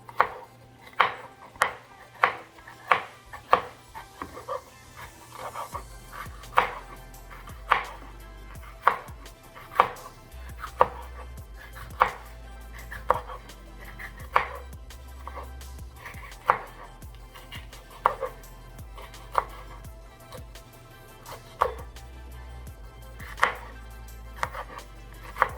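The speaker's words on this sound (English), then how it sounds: "Let me chop this up." A knife chops a bell pepper on a cutting board in quick bursts of sharp, evenly spaced taps, pausing between runs, close and clear with no talking.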